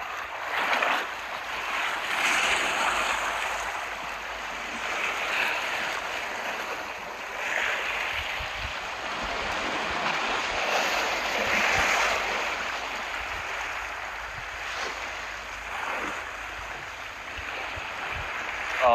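Sea waves wash steadily along the shore at Teluk Nibong, Langkawi, a continuous broadband surf with gentle surges and wind, no voices, fairly close and even in level.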